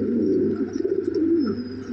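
Yellow Lahori pigeons of an imported bloodline giving a low, throaty coo, a brief warbling phrase heard close over a steady low hum.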